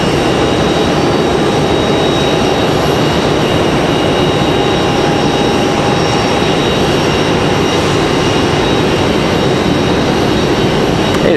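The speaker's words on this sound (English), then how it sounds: "This is going to be a CRJ 900. It's going to be the Delta Connection." A Delta Connection CRJ 900 jet arrives at Raleigh-Durham after a flight from Nashville, its engines a loud, steady roar with a high whine running unbroken throughout.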